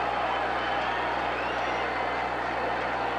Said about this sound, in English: a charge timeout and a 5-yard penalty can be assessed if the crowd noise continues to interfere